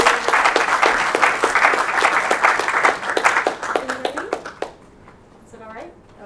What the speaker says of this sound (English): Give a round of applause for Priscilla.